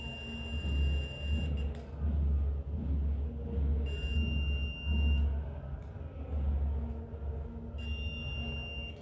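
A multimeter's continuity tester beeps in three sustained high electronic tones, each lasting about a second and a half with gaps between, over a steady low hum nearby.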